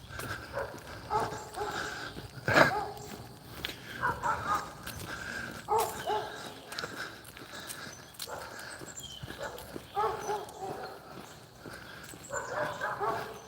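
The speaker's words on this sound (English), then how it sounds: "Dogs are barking over there" Distant dogs bark repeatedly during an outdoor walk, the yaps coming in scattered bursts that stay faint and far away, with light talking and footsteps underneath.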